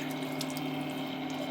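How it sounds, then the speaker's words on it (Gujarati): Water pours for cooking rice in a pressure cooker, a brief steady splashing stream heard up close. "તો મેં અઢી કળશિયા પાણી મૂક્યું છે."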